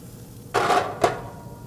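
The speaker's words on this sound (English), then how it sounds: "Let's give it a little bit of pressure so we get full contact on the skillet or on the griddle." Shrimp searing on a hot skillet or griddle as they are pressed down: a sudden close sizzle bursts up, holds briefly, then a second sharp hiss flares before fading back to a low background hum.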